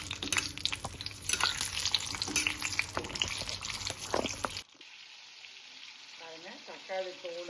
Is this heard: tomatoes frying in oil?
yes